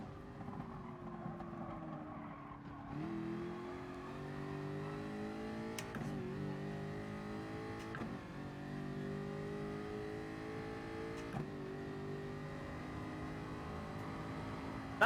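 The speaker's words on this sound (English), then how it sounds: "That McLaren is so fast in the Slipstream now compared to the Jag." A McLaren race car in Gran Turismo runs at full throttle, its engine note rising through the gears with sharp shift breaks every few seconds, loud and steady throughout with no voices.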